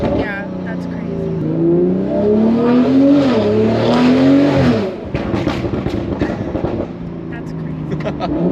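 BMW G42 M240i with a Valvetronic Designs exhaust revving hard, a loud climbing engine note sweeping up and back over several seconds before cutting off, with voices talking over the quieter tail.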